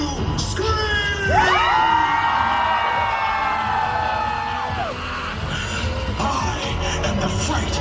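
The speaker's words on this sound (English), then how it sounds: "Let me hear you scream!" A large crowd screams and cheers together at the opening of Halloween Horror Nights, a loud sustained roar that swells and fades over several seconds.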